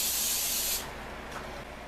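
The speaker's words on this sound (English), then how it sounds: "I'm going to take some non-stick buttery spray and spray down a baking pan." Non-stick buttery cooking spray sprayed onto a baking pan: one loud, close, steady hiss lasting under a second, then cutting off to quiet room tone.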